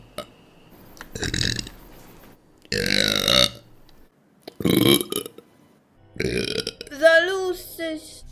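Series of loud, deep burps from a female vtuber, each a separate raspy belch in bursts with silent gaps between them, the last one stretching into a wobbly, voiced drawl.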